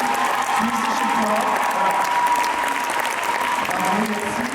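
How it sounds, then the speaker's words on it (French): Audience at a rhythmic gymnastics farewell gala in Thiais applauding, dense sustained clapping from a large crowd throughout, with voices faintly mixed in. "je crois qu'on peut encore l'applaudir très fort"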